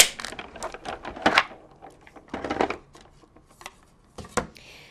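A sheet of paper is run through a die-cutting machine with the cutting plate on top, producing a series of irregular clicks, clacks and rattles up close, with no talk.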